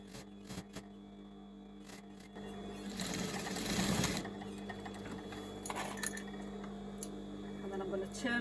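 Domestic sewing machine stitching elastic onto trousers through the centre of the overlocking, a quiet close whirring run of a second or so between small clicks and handling noises, with brief soft speech.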